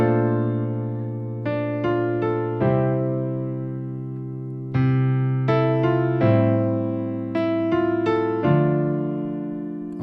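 Section 2 of a song played slowly on piano, with single struck notes and chords spaced out and left to decay before the next, clear and close with no voices.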